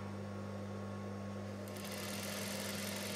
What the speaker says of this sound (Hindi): इसे कॉर्नर में सिलाई करते जाना है